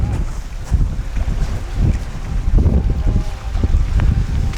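Strong wind gusting and buffeting against the microphone at an Antarctic landing site where penguins are nearby, loud, rough and continuous, with no talking.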